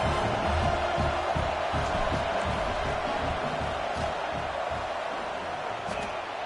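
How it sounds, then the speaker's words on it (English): A stadium crowd at a USC versus Oregon football game roars steadily during a field goal try, a dense, continuous wall of noise with rhythmic stomping or chanting pulses underneath, loud throughout. "This crowd trying to do its part to get inside the kicker's head"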